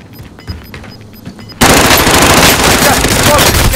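Sudden, loud sustained machine gun fire in Call of Duty Modern Warfare, erupting after quieter ambient game sounds and continuing as an unbroken close-range burst.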